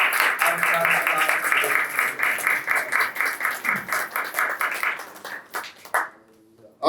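Church congregation clapping in a strong rhythmic beat, loud at first and then easing into separate claps that fade out near the end, with voices talking over the applause.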